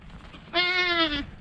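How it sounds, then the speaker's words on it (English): A goat on St. Barths gives a single clear, tonal bleat lasting under a second, close and loud against quiet outdoor background. "Well, there's a goat."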